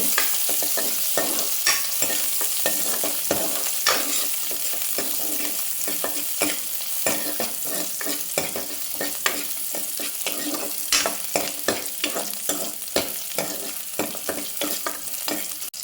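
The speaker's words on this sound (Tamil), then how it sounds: "அப்படியே 2 பச்சை மிளகாய் இதை வதக்கிட்டு" Green chillies sautéing in a pan, a steady sizzle with frequent scraping stirs throughout, loud and close.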